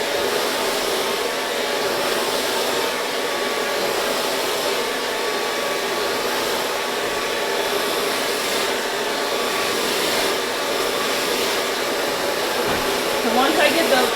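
A hair dryer runs continuously while blow drying short relaxed hair, a loud, steady, close whooshing roar that holds for the whole stretch with only slight changes as it moves.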